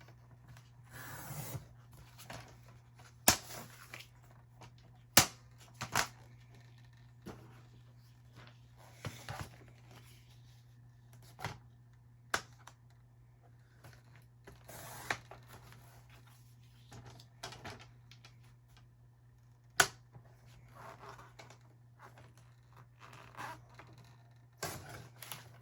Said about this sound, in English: just gonna cut it right here